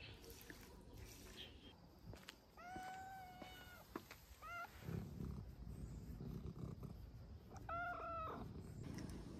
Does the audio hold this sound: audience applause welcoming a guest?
no